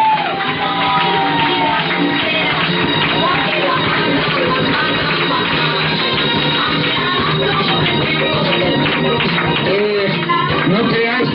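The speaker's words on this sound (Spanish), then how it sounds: "Un fuerte aplauso para él" A live crowd at a stage show erupts in dense, continuous cheering, whooping and shouting mixed with applause, loud and sustained throughout.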